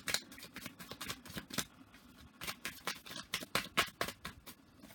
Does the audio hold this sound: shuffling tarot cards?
yes